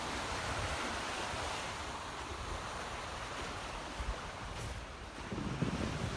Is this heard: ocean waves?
yes